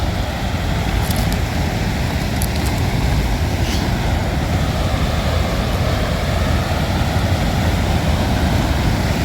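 Loud, continuous roar of a river rushing in Albania where the water disappears into the ground, a dense unbroken torrent close by with no speech.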